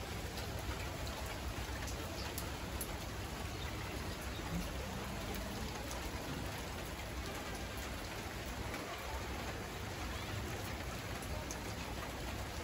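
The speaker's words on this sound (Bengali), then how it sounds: "সবাই বৃষ্টি ভিজতেছে, আশেপাশের ছাদে বৃষ্টি ভিজতেছে," Steady rain falls on the surrounding rooftops, a dense even hiss of drops that runs without a break through the whole stretch, heard close and fairly loud with no voices.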